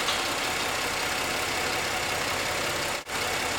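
A car engine idles steadily close by while a sensor fault is being chased, a continuous even rumble with no revving and no voices.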